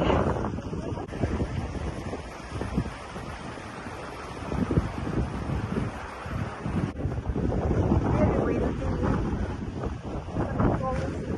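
Strong wind buffets the microphone outdoors in Amsterdam, producing a steady, loud rumbling roar with gusty surges throughout, and a voice is faintly audible beneath it.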